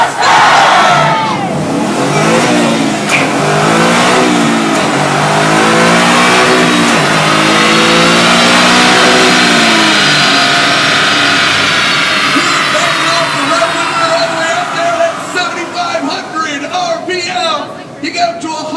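A 2012 Ford Mustang Boss 302 revved hard at standstill on an auto show floor, its engine climbing in long rising sweeps, loud and close, with a crowd cheering and people talking over it.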